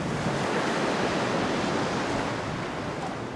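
Ocean waves break at Supertubes Beach in Jeffreys Bay, South Africa, producing a steady, loud wash of surf noise with no pauses and no voices.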